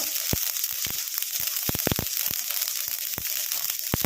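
Mustard seeds splutter in hot oil over a low flame while a homemade hair dye is prepared. A continuous close sizzle carries frequent sharp, irregular pops and crackles.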